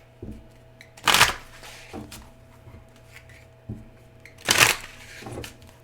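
Oracle cards from the Woman's Intuition Oracle deck being shuffled by hand: two brief, crisp riffling bursts about three seconds apart, with soft card handling and taps between them.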